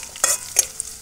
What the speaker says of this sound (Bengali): দিয়ে দিচ্ছি থেতো করে রাখা রসুন, কাঁচা লঙ্কা। রসুনটা একটু হালকা লাল করে নেব।